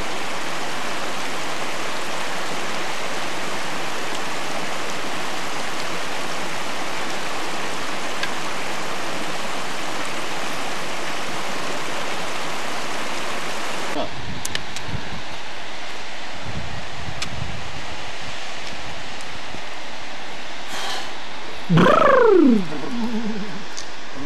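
A stream of water flowing near a waterfall: a steady broadband rush for about fourteen seconds, then the sound drops to a quieter wind-buffeted background with scattered rustles and a short high whistling sweep near the end.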